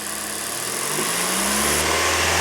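A Toyota Corolla E210 engine fitted with an Injen cold air intake revs up and holds at 3,000 RPM, a loud continuous mechanical drone close by, with a faint whine above it.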